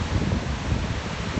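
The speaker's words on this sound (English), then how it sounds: "it's actually quite windy here" Wind gusts across the microphone at the ancient port of Akko, a steady low rumbling buffet with a broadband rush, loud and continuous, with no voices.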